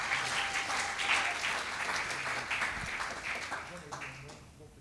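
A church congregation applauds from their seats during a worship service, giving sustained, fairly distant clapping with cheering voices mixed in beneath. A faint voice carries over the crowd.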